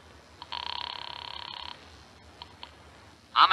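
A telephone in a radio drama rings once in a long, buzzy electric trill, clear and close, followed by a few faint clicks and a short burst of sound at the end.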